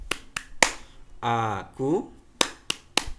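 Children's classroom clapping chant, tepuk anak soleh: sharp hand claps in a rhythmic pattern broken by sung chanted phrases, close and loud, with a voice speaking.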